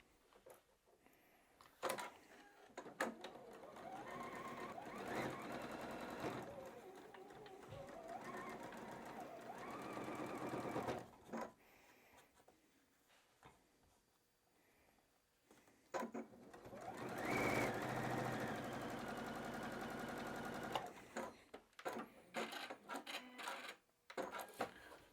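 Sewing machine stitching quilt block fabric pieces together, running in several long steady bursts separated by quiet pauses and small handling clicks, close and clear.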